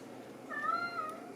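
A single drawn-out cat meow, close and fairly clear, rising then falling over about a second against quiet room noise.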